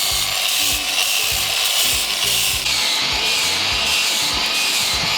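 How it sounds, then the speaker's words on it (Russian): A hand scraper works over a yacht hull in rhythmic rasping strokes, close and steady, with a continuous hiss of background noise and no talk. "сейчас с скребком поработаем"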